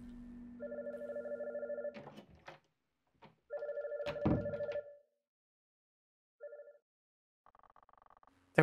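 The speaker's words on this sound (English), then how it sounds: "Is that phone ringing?" Telephone ringing in the video game Blank Frame, a few repeated electronic ring bursts with pauses between them, fairly quiet, with a player talking over part of it.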